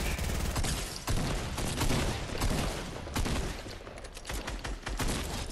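Gunfire in a video game sniper fight, dense repeated sharp shots and rattling bursts, loud and close, packed together over several seconds with no voice on top.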